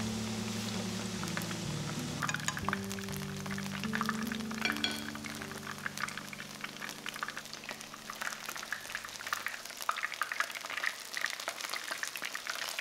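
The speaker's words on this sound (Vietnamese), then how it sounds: "Khi dầu nóng thì mình cho lá lốt vào chiên nè." Betel leaves fry in hot oil, bubbling and crackling continuously at low volume, a soft frying sizzle with a fading hum early on.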